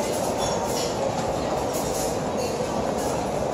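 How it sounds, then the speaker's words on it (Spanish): A train at Leipzig railway station, heard as a steady, loud rumble of rolling wheels and carriages that fills the whole stretch without a break and without speech. "les acabo de mostrar la estación de trenes de Leipzig"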